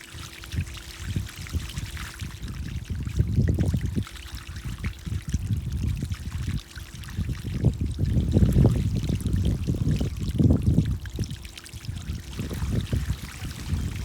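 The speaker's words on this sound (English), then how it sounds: "Then I'm gonna turn the water on high to flush it out." Water flushed through an air-conditioner condensation drain line pours and trickles out of the pipe end in a backyard, a steady close gurgling stream with surging splashy bursts throughout.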